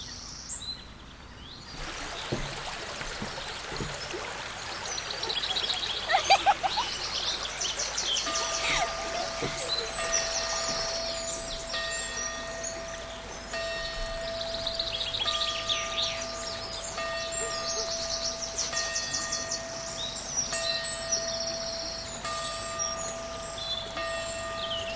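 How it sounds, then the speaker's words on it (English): A flowing river stream gives a steady broadband wash while birds chirp and trill in repeated bright bursts over it, moderately close and unbroken for the full length. "I'm going to start with the river about there, and I'm going to pan it when it moves"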